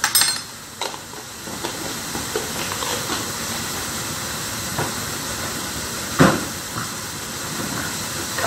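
Curry with turmeric powder is mixed in a hot pan, giving a steady steamy sizzle and hiss with soft stirring scrapes throughout and one sharper clatter near the end, no voices.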